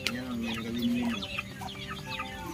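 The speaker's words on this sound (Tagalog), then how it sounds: "Ito mga manok." Chickens clucking close by, a hen among other farm fowl, with overlapping repeated clucks and a few higher calls running steadily through the whole stretch.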